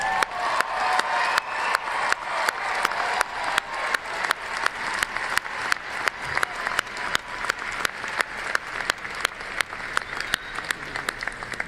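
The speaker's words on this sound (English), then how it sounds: "Let's give one more round of applause for all of our graduates' achievements." Long, steady applause from a large audience at a December 2025 university fall commencement, honoring the graduates; dense clapping holds at an even level throughout with faint crowd murmur underneath.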